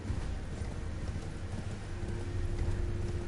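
Horse hooves clop in a steady, fast galloping rhythm as a mounted rider crosses terrain in the Elden Ring video game, heard over dense game ambience with no speech.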